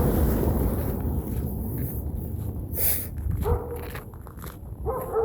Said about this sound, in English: if you don't shut your dog up